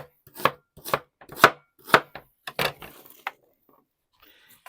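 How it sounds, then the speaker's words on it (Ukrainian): A knife chops onion on a board for an Uzbek dimlyama, six or seven crisp, evenly spaced cuts close up, then a pause and a few faint clinks. "Дорізаємо нашу цибулю."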